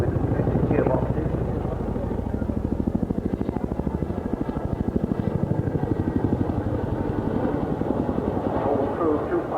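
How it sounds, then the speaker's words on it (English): A twin-turbine helicopter powered by two T55 engines at an air show gives a steady, loud rotor throb with fast regular chopping and engine roar throughout, while a commentator talks over it. "Powered by two T55 turbine engines, driving two motors with gearboxes."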